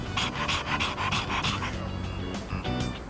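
Koromaru, the dog from the video game Persona 3 Reload, pants steadily and closely in quick rhythmic breaths that continue without a break over soft background music.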